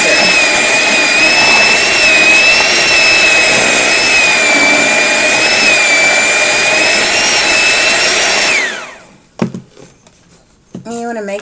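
A blender whirs loudly and steadily for about eight seconds while blending a homemade body scrub mixture, then winds down and stops, followed by faint clattering and a brief voice.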